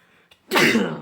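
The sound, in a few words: sneeze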